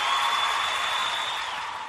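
Studio audience on a live comedy radio show cheering and applauding, a bright, dense, sustained roar of clapping and voices close up, fading slightly at the end.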